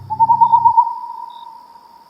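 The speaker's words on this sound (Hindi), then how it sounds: "एक काला उल्लू आकर गाब के पेड़ पर बैठा और अपनी डरावनी आवाज में बोल उठा" A single drawn-out hoot rings out, wavering at first and then holding steady before fading, with a low rumble underneath at the start.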